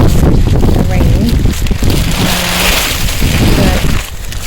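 Strong wind blows through an outdoor garden and buffets the microphone in loud, rumbling gusts that roar and ease over several seconds, with faint rustling underneath.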